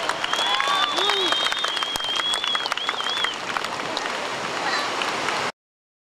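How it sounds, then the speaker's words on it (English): Crowd applause at a memorial event, a dense, sustained clapping with cheers and whoops over it that carries steadily before cutting off abruptly. "How about one more huge round of applause for that girl right there"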